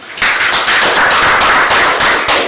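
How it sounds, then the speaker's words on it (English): Audience at a maternal and newborn health learning event claps for presenters, a loud, close burst of many hands starting abruptly and continuing steadily with distinct individual claps audible. "Can we give them a clap?"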